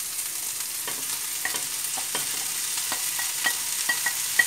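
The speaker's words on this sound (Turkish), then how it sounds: "Karıştırıyoruz." Mushrooms sizzle softly in a pan while a utensil stirs them, the scraping strokes recurring in an irregular rhythm over a steady hiss, with no voices.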